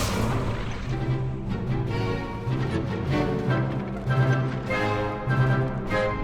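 Fire spells cast repeatedly in Hogwarts Legacy, a series of soft whooshing bursts and booms over steady background music and ambience, moderately loud and evenly spaced.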